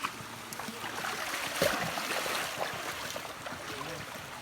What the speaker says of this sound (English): we're going to be going through the middle of the stream till we get to the cave.